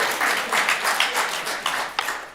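Applause from a synagogue Torah study audience, a short soft patter of clapping at moderate distance that swells and thins over a couple of seconds.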